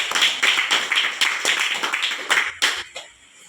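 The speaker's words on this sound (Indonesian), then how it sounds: "Tepuk tangan dulu untuk kita semua ya." A classroom of pupils claps together in a loud, rhythmic run of hand claps about twice a second, then the clapping stops abruptly near the end.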